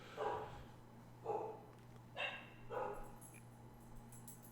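Dogs bark in the video game The Outer Worlds, four separate barks spaced about a second apart, faint and distant over a low steady hum.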